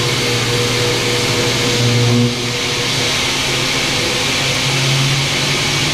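A CNC mill makes a helical entry into a centre pocket with a loud, steady mechanical whine and hum. The tone shifts pitch briefly around the middle and again near the end.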